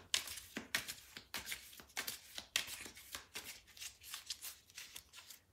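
Tarot cards are laid out and shuffled on a table in a steady series of close, crisp flicks and slaps, with no talk over them.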